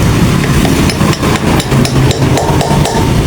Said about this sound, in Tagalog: Wala bang maliit na martilyo, Kyle?